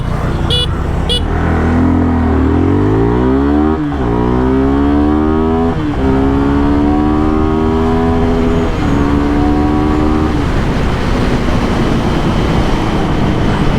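A Suzuki Gixxer 250 motorcycle accelerates hard from a standstill toward 100 km/h on an open road, its engine note climbing and dropping through several gear shifts under steady wind noise.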